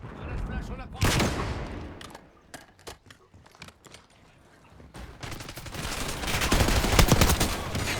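Video game gunfire as a sniper is taken down: dense rapid volleys at the start and end, with scattered single sharp shots between them, loud and close.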